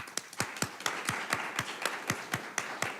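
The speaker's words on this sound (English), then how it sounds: "You can clap for her." An audience at a school board of education meeting claps for a new board member: a steady run of about a dozen distinct, evenly spaced claps, fairly close and moderate in loudness, with no talking.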